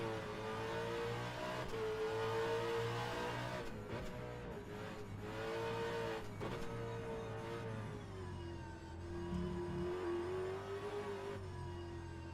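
V8 race cars in a racing sim video game roar around Sydney Motorsport Park, a steady engine drone with rising and falling revs and gear changes, one car close and loud the whole time.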